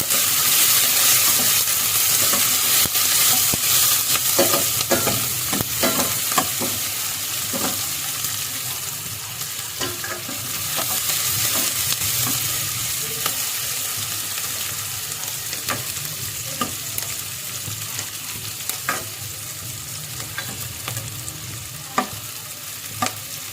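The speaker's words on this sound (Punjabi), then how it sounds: "ਪਿਆਜ਼ਾਂ ਨੂੰ ਬਹੁਤ ਜ਼ਿਆਦਾ ਫਰਾਈ ਨਹੀਂ ਕਰਾਂਗੇ ਹਲਕਾ ਜਿਹਾ ਕਰਨਾ ਹੈ" Long-sliced onions fry lightly in a pan for an aloo matar dry sabzi. A continuous sizzle runs throughout, broken by frequent clicks and scrapes of a spoon stirring against the pan.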